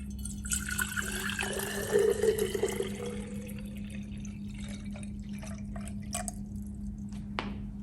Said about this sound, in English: First, fill 3/4 of the jar with water.